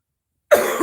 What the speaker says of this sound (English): I got a coughing fit.